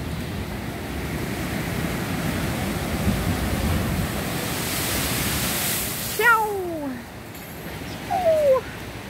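Late southern swell surges against a seawall on a wild, windy day, making a loud continuous roar of crashing water and wind buffeting, which eases near the end as brief voices break in.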